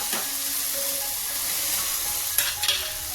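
Grated carrot and tomato sizzle loudly in a frying pan, a dense continuous hiss with a couple of scraping stirs near the end.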